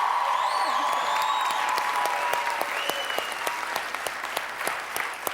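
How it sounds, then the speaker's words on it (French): Studio audience on a Quebec reality show applauding for a housemate named Benoît, steady dense clapping throughout, with faint background voices and a musical tone early on. "Benoît, je pense que les derniers applaudissements étaient pour toi."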